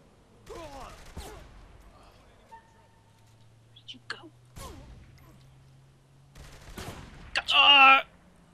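Gunfire in Saints Row: The Third, sharp isolated shots scattered through a quiet stretch, ending in a louder burst of noise, with a low hum partway through and no talk.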